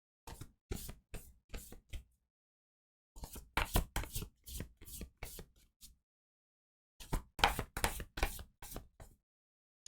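Bursts of quick, crisp tarot card riffling in short separated runs, with pauses between shuffles; fairly quiet and close, no talking.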